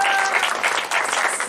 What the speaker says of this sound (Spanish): un aplauso para Ailín,